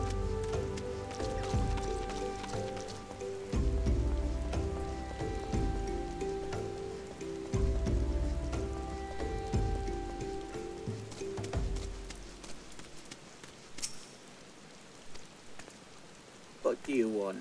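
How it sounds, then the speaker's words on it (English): Rain falls in Final Fantasy XIV, a steady soft patter on surfaces heard under game music and a talking voice for most of the stretch, then continuing more openly once the music fades. "Oh good, it's raining."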